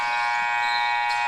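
A basketball game buzzer sounds at the end of the first period, a single steady, loud electronic tone held throughout with no voices over it.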